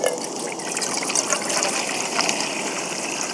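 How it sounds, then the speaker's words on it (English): Water trickles and pours into a camping pan for pasta beside a mountain tarn, a steady splashing stream heard up close for a few seconds without talk. "In my second pan, I'm going to put some water in,"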